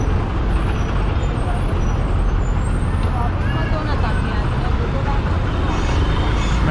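City traffic is heard from inside a bus in Hyderabad, a constant loud rumble of engines and road noise with faint horn-like tones drifting above it. A voice talks intermittently over the din.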